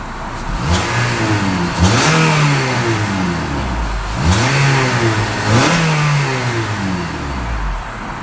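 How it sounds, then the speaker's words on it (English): A 2017 Acura ILX A-Spec's 2-liter four-cylinder engine revs up hard twice, rising and falling in pitch, with a steady throaty drone between the pulls, close and loud. "Beautiful sound from that 2-liter 4-cylinder."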